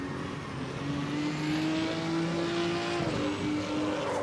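A Porsche prototype race car in CarX Street revs hard under power, a loud continuous engine note climbing and holding with faint tire squeal, no voices over it.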